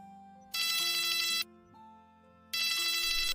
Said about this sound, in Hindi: रिया रोहन को फोन करती है।